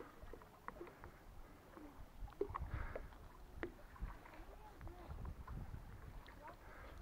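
Speedboat running fast across the Azov Sea toward Biryuchiy Island, a faint steady rush of wind buffeting and hull noise over low engine rumble, with occasional thumps from waves.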